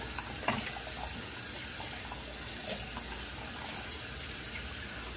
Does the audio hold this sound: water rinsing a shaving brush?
yes